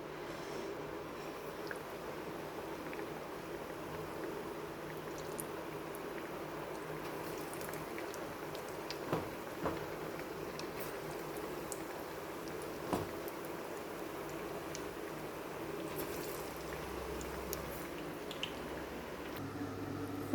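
Bajji fritters fry in hot oil in a home kitchen, giving a steady, quiet bubbling sizzle throughout, broken by occasional small pops and crackles.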